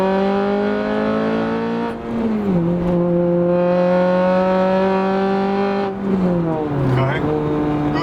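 A Honda Civic Type R engine drones steadily in third gear at about 5,000 RPM, loud and close from inside the car, with pitch dips at gear or throttle changes; someone talks over it.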